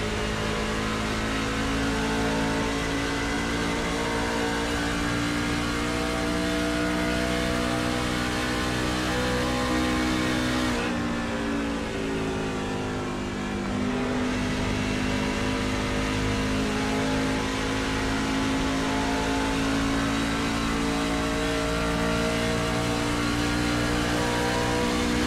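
Lonestar Racing Truck Series trucks race at Homestead, a dense, steady roar of multiple engines running continuously with a brief dip and shift in pitch midway as the pack passes, loud and close without speech.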